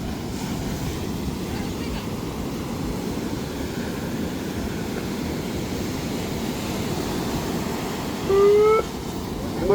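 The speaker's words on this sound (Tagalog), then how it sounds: "Malalaki yung alon ngayon," Big ocean waves roll onto a beach in La Union, a continuous low rumbling surge up close with strong wind-like roar, ending in a brief louder burst and a faint tonal squeal.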